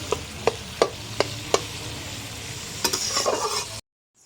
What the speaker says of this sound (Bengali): এই চলো আলুটা ভাজা হোক।